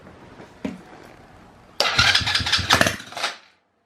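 After a single click, a 110/125 cc quad bike engine sputters to life and revs loudly in a few rough bursts for about two seconds, then cuts out.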